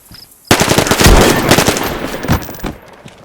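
In DayZ, PvP at the Airfield, rapid bursts of loud gunfire erupt after a brief quiet moment, a sustained volley of shots with sharp cracks continuing for a few seconds before tapering.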